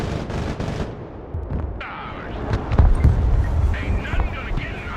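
Heavy naval gunfire from a battleship in the Broken Arrow war game booms out in several loud, close blasts with rumbling echoes and tails.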